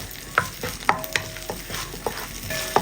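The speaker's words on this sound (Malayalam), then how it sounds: "ഒന്ന് മീഡിയം ഫ്ലെയിമിലിട്ടിട്ട് ഒന്ന് ഇളക്കി കൊടുക്കാം" Ginger garlic paste frying over a medium flame while a utensil stirs it in the pan, with a steady close sizzle and several sharp scraping clinks against the pan, no voices.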